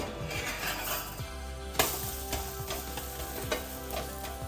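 Snack frying in coconut oil in a pan as it is flipped, a steady sizzle throughout with light clinks and scrapes of a utensil against the pan, one sharper clatter partway through.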